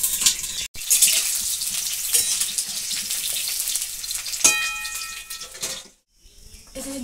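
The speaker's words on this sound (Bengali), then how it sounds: "আলুগুলোকে আমি ঢাকা দিয়ে দিয়ে ভাজবো, তাহলে আলুগুলো তাড়াতাড়ি সিদ্ধ হয়ে যাবে।" Potatoes fry in a covered pan in a village kitchen, giving a steady hiss and sizzle with a few clinks, then a short sharp scrape before the sound drops nearly to silence at the end.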